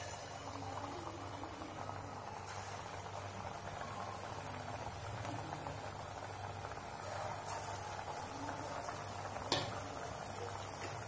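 Sweet Andhra rava appam fries in hot oil in a kadai, a quiet, steady bubbling sizzle with a faint clink near the end and no voices.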